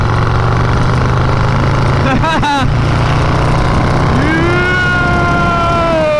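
A turbocharged 223 hp Harley-Davidson motorcycle accelerates in sixth gear under rolled-on throttle. The engine drone is loud and continuous, heavy wind buffeting runs throughout, and a rising whine builds toward the end.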